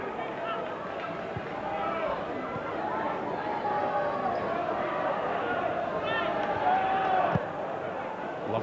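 Large football crowd of about 8,000 at Firhill stadium during a Scottish Premier League match between Partick Thistle and Celtic, a steady roar of chatter and chanting filling the ground, swelling slightly near the end.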